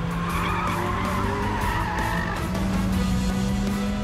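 Continuous loud tire squeal as a car, either a Renault Clio RS or an FPV GT, slides across a wet skid pan during a race, the engine droning steadily underneath.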